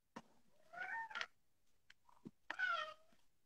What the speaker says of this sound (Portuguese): Já deu para ouvir o miado dele pedindo comida